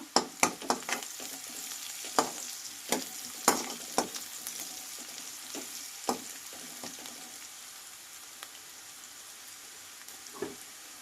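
Garlic and chillies sizzling in a hot oil tempering, close up, steady crackling with sharp pops and stirring clatters scattered throughout.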